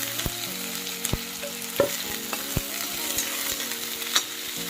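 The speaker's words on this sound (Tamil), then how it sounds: "இதை நல்லா சேர்த்தி வதக்கி விட்டுக்கலாம்." Onions sizzle and fry in a pan for a goat blood stir-fry, with occasional sharp clinks of a spoon stirring against the metal.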